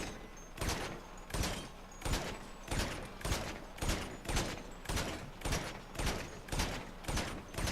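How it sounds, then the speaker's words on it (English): Gunshots in GTA V Online strike a car's fender, a regular series of about a dozen sharp, loud reports spaced roughly half a second apart, each followed by a brief tail, with no talk. "you're going to have to shoot it a couple of times for that to work"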